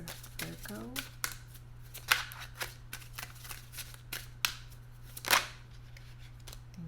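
Tarot cards are shuffled in a quick run of crisp riffles and soft slaps close by, with a person talking lightly over a low steady hum.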